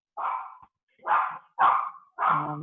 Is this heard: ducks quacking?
no